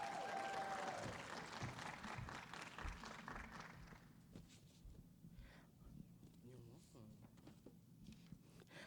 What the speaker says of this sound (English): A big, big round of applause for Dr.